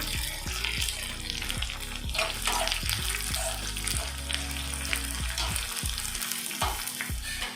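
Green chillies and curry leaves hit hot oil that already holds light-brown urad dal, tempering for a banana curd pachadi; a loud, close, steady sizzle and crackle with stirring runs throughout, no voices.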